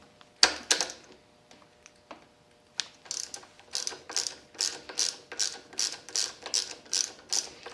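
A ratchet wrench clicks while loosening a 10 millimeter nut on a motorcycle clutch lever: a few scattered clicks at first, then a steady, even run of about a dozen close, crisp ratcheting strokes, with no talking.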